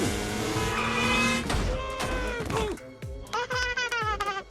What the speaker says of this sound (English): The car's swerving and bouncing everywhere.